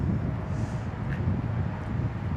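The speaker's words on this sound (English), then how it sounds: "it's getting pretty windy though" Steady wind rumbling and buffeting against the microphone beside a Newmar Dutch Star Class A motorhome, a constant low roar with no voices.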